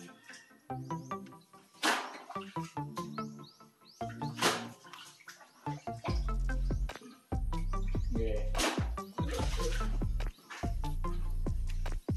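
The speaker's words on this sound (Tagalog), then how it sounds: "yung tubig tumatalsik na" Water splashes and gushes from a hand-pump well as it is dug out during repair, in loud, uneven bursts with short gaps between them. The splashing grows heavier and more sustained toward the end.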